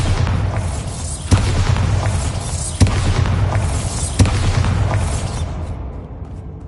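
Hogwarts Legacy's Bombarda spell sets off three heavy booming blasts about a second and a half apart, loud and close over a low continuous roar that thins out at the end.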